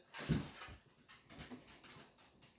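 A dog whimpers softly nearby in a home kitchen where salmon is being sliced, giving a few short, faint whines and breathy whimpers over about two seconds.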